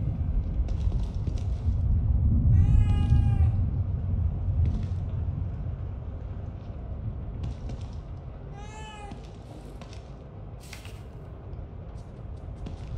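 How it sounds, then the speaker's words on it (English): Two distinct cat meows with rising-falling harmonic sweeps ring out in The Evil Within 2, spaced several seconds apart over a low rumbling ambient drone, moderately close and clear without talk. "Cat. I don't ever remember owning a cat."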